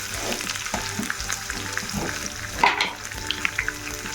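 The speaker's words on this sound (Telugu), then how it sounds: "ఈ కొంచెం ఎర్రగా వేగంగానే వెల్లుల్లిపాయ వేసుకోవాలి" Garlic frying in hot oil for dosakaya chutney, a crackling sizzle with stirring and scraping of the pan, a sharper clatter midway, close by and without voices.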